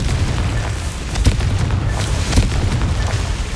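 Confringo fire spell exploding in the Hogwarts Legacy video game: loud, dense rumbling booms with two sharper blasts standing out from a continuous thundering roar, no talking.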